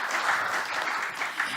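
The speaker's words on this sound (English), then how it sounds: "Give yourself a big round of applause." Seminar audience applauding in a brief, fairly soft, even patter of many hands clapping.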